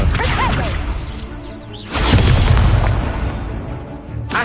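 The Accio spell cast in Hogwarts Legacy makes loud magical whooshes, with a rising swish, a brief lull, then a heavy booming rush and a final swipe near the end. No speech.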